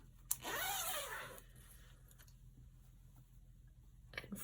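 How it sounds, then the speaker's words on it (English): A dress zipper on a sewing project is drawn open in one quick raspy pull lasting about a second, close and clear, followed by quiet room tone with faint soft handling noises. "Now unzip your zipper"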